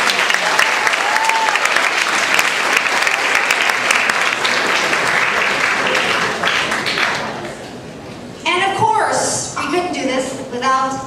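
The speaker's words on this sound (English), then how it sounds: "So let's give the parents a big round of applause." A crowd at a middle school awards ceremony claps in sustained, dense applause that gradually tapers, followed by scattered claps and a few cheers.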